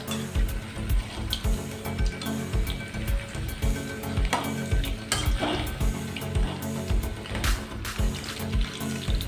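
Chicken pieces for chilli chicken fry in hot oil in a pan, a steady close sizzle broken by repeated scraping bursts as the pieces are stirred, with no talking.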